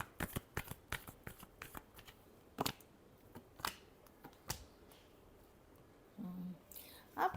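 A final shuffle of a tarot deck gives soft, irregular card flicks and slaps at close range, quiet and sparse, ending in a brief rustle of cards.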